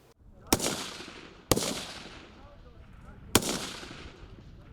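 Three loud, sharp gunshot reports during army firing exercises, spaced about a second or two apart, each with a long echoing decay across open ground, while a faint murmur of background activity continues underneath.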